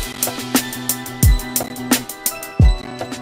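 Off-grid, swung hi-hats from FL Studio ride over a full beat with booming kicks and tonal chords, the hats shuffling with a loose, bouncy feel between heavy low thumps.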